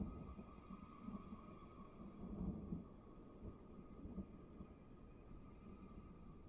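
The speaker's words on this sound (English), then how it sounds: "the storm sounds like it trails off into the distance" A thunderstorm sound effect for a Deadlands tabletop role-playing session: low, distant thunder rumbles rise and fade in soft waves over a steady hiss of rain, quiet and fading into the distance.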